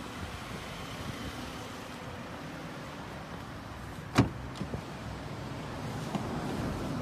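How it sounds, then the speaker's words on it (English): A Grand Caravan power sliding door runs with a soft mechanical hum under steady outdoor background noise, ending in a sharp latch clunk followed by a couple of lighter knocks. "Power sliding doors and rear hatch."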